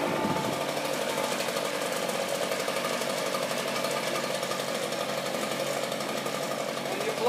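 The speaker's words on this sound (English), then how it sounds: "The big thing with the backpack blower is you don't want to run it at full speed." A backpack leaf blower runs steadily at low speed on new grass, a constant buzzing engine drone held close and even for several seconds, with brief speech at the start.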